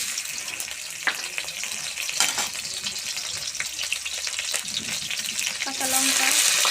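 Chopped onions hiss and sizzle in hot oil in a wok, with a steady crackling frying sound and occasional sharp clicks of spattering, louder toward the end when the sizzle intensifies.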